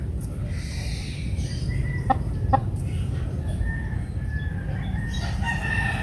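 Organically raised chickens on open ground cluck and crow intermittently close by, with short calls scattered over a steady outdoor background noise.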